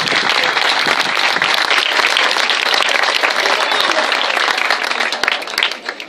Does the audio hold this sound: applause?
yes